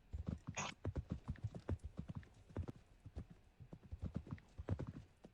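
Horse hooves clip-clop in a steady rapid rhythm during a beginner riding lesson, close and clear, with a brief neigh early on and no talk.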